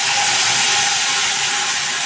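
A paste of cumin, green chili and ginger sizzles in a hot pan with potatoes, giving a steady, fairly loud frying hiss with no talk.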